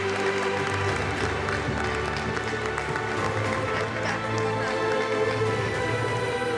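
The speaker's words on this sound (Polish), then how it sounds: "Wielkie brawa mamy dla Roxany" An award ceremony audience applauds Roksana Węgiel for Debut of the Year, with sustained, dense clapping from a large crowd filling the whole stretch and a voice speaking faintly underneath.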